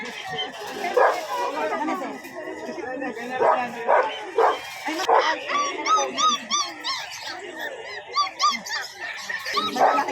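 Several dogs bark, yip and whimper in a busy chorus at a pet market in Bocaue, Bulacan, with people talking over the commotion.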